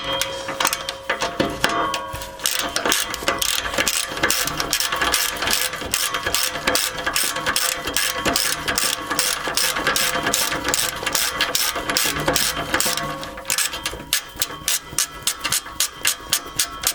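Ratchet wrench backing out 15 mm bolts on a Ford Mustang V6 muffler: a loud, steady, rapid clicking that runs the whole time with no talking.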